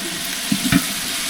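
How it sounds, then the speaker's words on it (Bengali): Washed rice and lentils drop into a pot of spiced masala for vegetable khichuri, giving a brief sizzle and a couple of soft stirring clatters over a steady hiss. "এবার মা দিয়ে দিচ্ছে চাল আর ডাল ভালো করে ধুয়ে রাখা"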